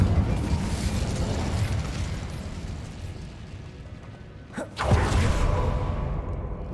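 In the Hogwarts Legacy video game, an Incendio fire spell is cast with a rushing fiery whoosh that builds, then a sharp burst near the end over a rumbling game soundscape.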